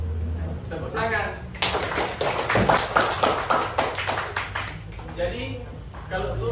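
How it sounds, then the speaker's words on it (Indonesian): Hands clapping in a Quran lesson classroom: a quick burst of rhythmic claps in the middle, between stretches of a person talking before and after. "Tepuk tangan."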